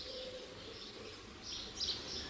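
A flock of house sparrows chirps in St James's Park, a steady, faint background of overlapping small calls with no voices.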